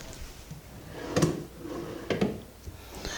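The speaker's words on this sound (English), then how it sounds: "and we have a couple of drawers" Drawers in a TV unit in a Hyderabad family home slide and knock shut twice, two distinct wooden thuds about a second apart with a soft rub between, in a quiet room.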